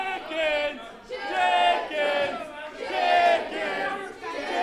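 A wrestling crowd at an indie show cheers and yells continuously, rising and falling in loud surging waves of massed voices.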